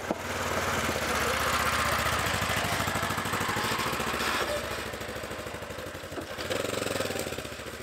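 A side-by-side UTV engine idling steadily at close range while the vehicle is parked in the woods near a creek, a continuous rumble with a brief rise near the end, no talking.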